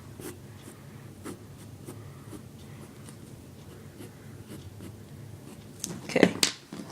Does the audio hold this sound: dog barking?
no